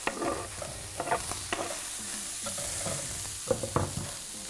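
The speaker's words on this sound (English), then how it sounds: "We're going to fry them down for probably 3 minutes until they start to brown and caramelise." Garlic, red chilli and spring onions fry in a pan with a steady broadband sizzle, broken by intermittent clacks and scrapes of stirring; fairly close, with no talking.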